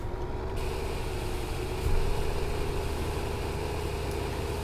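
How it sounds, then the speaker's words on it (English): A tractor engine idles in Farming Simulator 15, a steady low diesel rumble holding evenly throughout with a slight swell near the two-second mark, no talk. "The tractor is behind me."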